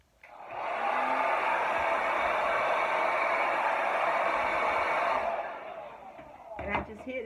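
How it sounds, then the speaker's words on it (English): A blow dryer whirs steadily at close range for about five seconds, setting a curly hair weave in place, then shuts off, followed by some faint handling noise. "I just hit it with my blow dryer so that it'll stay up there"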